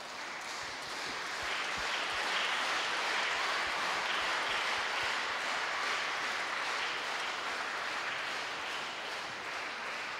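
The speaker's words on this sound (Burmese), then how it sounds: "ကျွန်တော်ဖာရာကိုလက်ခုပ်နောက်တစ်ချိန်နဲ့ကျွန်တော်တို့ကြိုးဆိုကြရအောင်" A congregation at a Catholic Mass marking a priest's 13th anniversary applauds him, a steady, sustained roll of many hands clapping with no voices over it.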